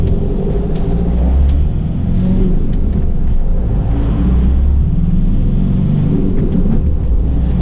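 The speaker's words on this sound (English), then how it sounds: "I'm going to go into first gear and off we go on the road test." A Ford Transit single-cab dropside truck with a six-speed gearbox pulls away in first gear, its engine a steady close, loud low rumble that holds fairly even with slight swells for several seconds, no voices.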